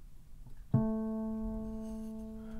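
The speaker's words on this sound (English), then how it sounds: "and A normally sounds like this." A single A key struck on a piano, softly played, with a clear sustained tone ringing out and slowly fading alone after a brief quiet lead-in.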